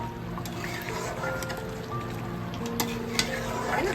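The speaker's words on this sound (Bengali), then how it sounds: "এবার আমি ভালো করে একটু নাড়িয়ে দেই।" A spoon stirs Shahi Pani in a pan on the stove, a soft steady scraping and sizzle with a couple of light clinks toward the end, close and moderately quiet, no talk.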